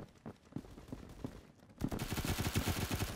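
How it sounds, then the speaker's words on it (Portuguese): Gunfire in the Roblox game Phantom Forces, scattered single shots at first, then a dense rapid burst of automatic fire that grows louder and continues to the end, with no talk. "Os caras alucinados, metendo bala em tudo ali."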